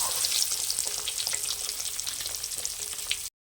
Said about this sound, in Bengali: তো এবার আমি ডিমগুলো ভেজে নেব।